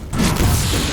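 Railgun firing at Phantom dropships in the Halo 4 campaign, a loud sustained booming blast with heavy low rumble and mechanical crashing that swells after a brief quiet start and holds for the full second.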